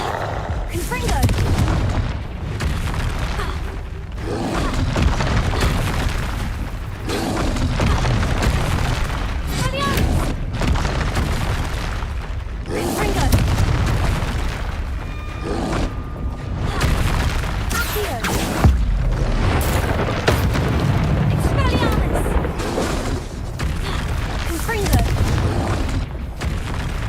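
Repeated Confringo blasting-spell explosions in Hogwarts Legacy, heavy booming bursts recurring every few seconds amid dense game noise and music, with a voice calling out between them.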